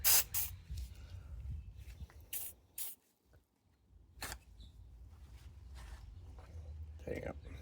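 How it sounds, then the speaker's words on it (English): A WD-40 aerosol can hisses in a few short bursts, close by, onto rusty Snap-on tools, with quiet rustling and handling noise between the sprays. "you take your WD-40, and you give her a little spray"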